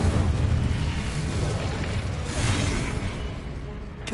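Fire spell Incendio cast in Hogwarts Legacy, a loud, dense roaring whoosh of flame that fills the whole stretch and fades slightly toward the end.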